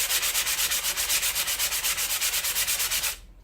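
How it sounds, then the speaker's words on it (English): Rough sanding on the bodywork of a BMW E30's rear arch, a steady rhythmic rasp of close, loud back-and-forth strokes at about six per second, stopping abruptly near the end. "I'm just basically giving it a rough sand right now."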